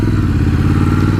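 A 2019 Triumph Scrambler 1200 XC's parallel-twin engine idles close and loud, a steady deep throbbing pulse with no talk over it.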